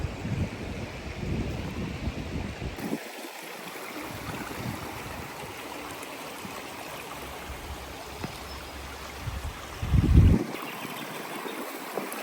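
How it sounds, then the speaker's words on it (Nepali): A stream flows in an outdoor hiking spot as a constant soft rush of water mixed with wind noise on the microphone, with a brief louder gust near the end and no talk. "पानीको कलकल"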